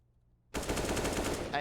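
AK-47 rifle spraying a long burst in Counter-Strike on the Mirage map during a competitive esports match, dense rapid automatic gunfire starting abruptly after near-silence and running loud and continuous to the end.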